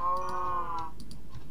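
A Minecraft cow gives one short, low moo close by, followed by faint clicking game sounds.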